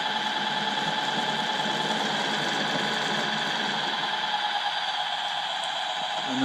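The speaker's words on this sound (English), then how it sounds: "engine will pick up" An Mtroniks sound unit fitted to a Roundhouse Criccieth Castle model shunter locomotive gives out a steady, buzzy simulated diesel engine drone that holds at an even level throughout, with no speech.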